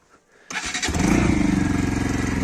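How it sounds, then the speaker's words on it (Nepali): A motorcycle engine cranks on a cold start and catches after a short pause, then settles into a loud, close, rhythmic idle. "अब टक्कसँग बाइक कोल्ड स्टार्ट हान्नुपर्ने हुन्छ हामीले"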